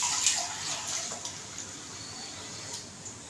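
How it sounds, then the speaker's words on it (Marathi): Water is poured into dal in a cooking pot, a soft, fairly quiet splashing trickle with small spattering bursts, steady throughout and without speech. "तिच्यामध्ये मी आता पाणी घालते आणि चांगली उकळी काढून घेते"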